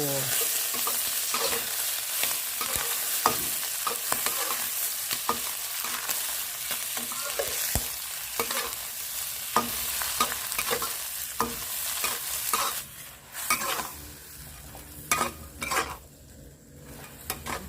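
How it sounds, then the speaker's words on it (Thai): Shrimp heads stir-fried in a pan, a close continuous sizzle broken by repeated scraping and clinking of a utensil against the metal, irregular and busy, with no talking. "ผัดหัวกุ้งกันเถอะ"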